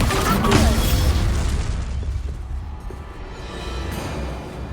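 A Bombarda explosion spell in Hogwarts Legacy, a loud booming blast at the start that rumbles and fades into a lingering crumbling tail.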